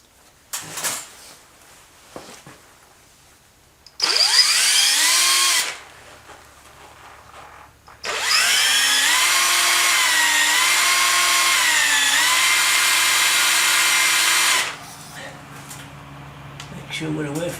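A power drill bores into a 1959 BSA C15T motorcycle part in two loud whirring bursts, the second one long and steady with the pitch dipping under load. Quieter handling noises sit between the bursts.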